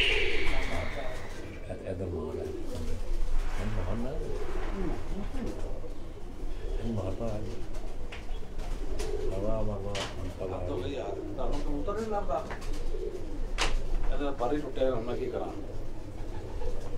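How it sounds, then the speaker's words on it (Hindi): Prince pigeons coo softly in a loft room, repeated low calls scattered throughout, while someone talks over them nearly the whole time. "ये प्रिंस कबूतर है"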